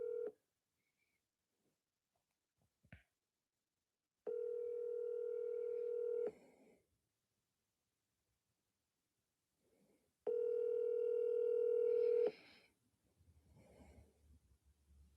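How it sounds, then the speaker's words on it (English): A telephone call is placed: a short dial blip, then two long electronic ring tones separated by silence, clean and fairly loud, with faint rustling at the end. "we'll call that difficult agent back"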